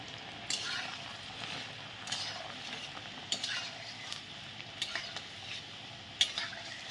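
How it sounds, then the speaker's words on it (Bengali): Bread-based gulab jamun logs frying in hot oil give a steady close sizzle with soft bubbling crackle, broken by occasional sharp clicks and scrapes of a utensil stirring the pan; no one speaks. "এখন ভেজে নিচ্ছি।"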